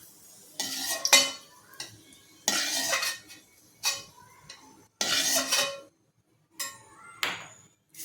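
Vermicelli is roasted in ghee in a pan, with several bursts of dry scraping and rustling as a metal spoon stirs it, separated by clinks against the vessel and short pauses.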